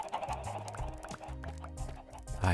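Chickens cluck in Minecraft, a string of short, fairly faint clucks over game background sound, ending in a louder low thump.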